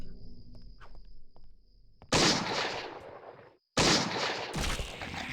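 Pistol fire in the video game Eternal Darkness: Sanity's Requiem, two loud bursts of shots with a brief gap between them, set against a quiet game ambience with a faint steady high tone.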